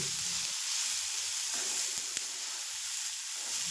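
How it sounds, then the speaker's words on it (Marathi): Vegetables sautéing in a little oil in a pan for a wheat-flour snack, a steady close sizzle with a few soft stirring taps and scrapes, no voices. "सगळ्या भाज्या फक्त 2 ते 3 मिनटं आपण परतून घ्यायच्या आहेत, जास्त शिजवायच्या नाहीत."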